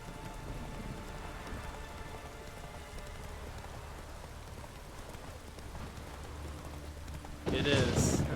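Horse hooves clop steadily through rain in The Witcher 3, a soft continuous patter of raindrops under the rhythmic steps, with a louder burst of noise near the end.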